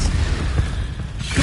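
Spell blasts in Hogwarts Legacy, Confringo and Expelliarmus, as booming magical impacts with low rumbling thuds in quick succession, loud and close over a continuous game soundscape.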